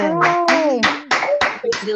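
Online audience on a video call clapping and cheering for newly announced ventures, several bursts of applause mixed with overlapping excited voices, close and loud.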